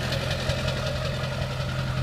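A 2002 Ford F350 with a 7.3 liter Power Stroke turbo diesel and straight-piped exhaust idles steadily nearby, a deep, even rumble with a knocking clatter running through it.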